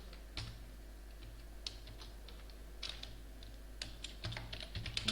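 Scattered keystrokes on a computer keyboard while writing C++ code, irregular taps in small bursts with pauses, fairly faint over a low steady hum.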